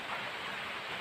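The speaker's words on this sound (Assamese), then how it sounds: "বৰষুণ কিন্তু এতিয়াও এৰাই নাই, বৰষুণ দিয়ে আছে" Steady rain falling during a festival-day downpour, heard as an even, continuous wash of soft hiss at moderate distance with no distinct drops or voices.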